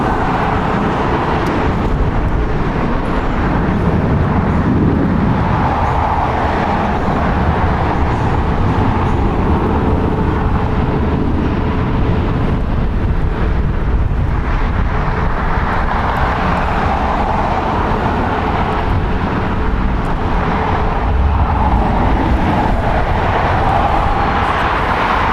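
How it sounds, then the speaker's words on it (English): A Delta Boeing 737-900ER departs LAX, its jet engines giving a loud, continuous rumbling roar that swells and eases gently over about 25 seconds, with no voices. "Departing on the north side, Delta Airlines Flight 749 going to Tampa It is a Boeing 737-900ER, 9 years old."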